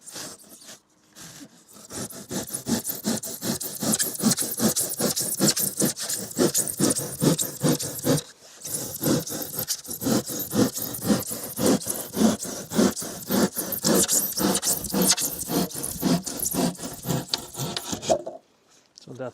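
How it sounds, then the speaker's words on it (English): A hand saw cuts through foundation insulation board in fast, steady back-and-forth rasping strokes, close and continuous for about fifteen seconds with one brief pause. "So there's the saw."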